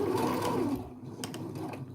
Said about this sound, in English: Even though this is a facing, I would still serge these seams